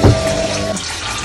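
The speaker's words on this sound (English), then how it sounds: "put water and then we'll cover it until the pork is tender" Water runs steadily from a tap into a cooking pot holding sautéed pork for simmering pancit canton, a continuous close splashing stream lasting about a second.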